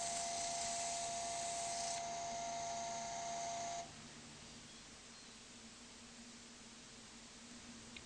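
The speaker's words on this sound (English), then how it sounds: "Now switch the lathe back on, sand and finish." A wood lathe runs while a turned piece held in an eccentric chuck is sanded, giving a steady mechanical whir and hiss that drops abruptly to a quieter drone partway through, with no talking.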